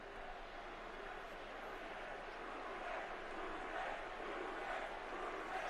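Stadium crowd at a Week 15 Bengals vs Buccaneers NFL game, a steady, dense roar of many voices filling the whole stretch at an even level, with faint talk mixed into the wash.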